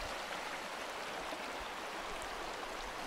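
Steady broadband rushing of a large river running high after upstream rains, near and continuous with no talk over it.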